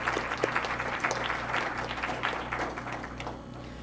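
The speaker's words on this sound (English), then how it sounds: "I feel like we should applaud that" The audience at a Fort Bend ISD school board meeting applauds a speech, with many hands clapping in a steady, crisp patter that fills the room and holds for several seconds before easing slightly.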